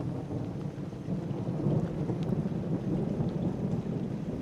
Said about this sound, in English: There's some Florida thunder for you.